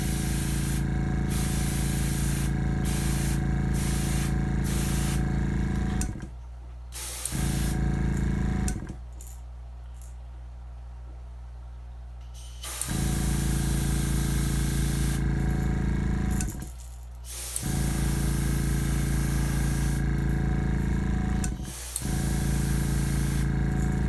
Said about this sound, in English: Clean airbrush back out.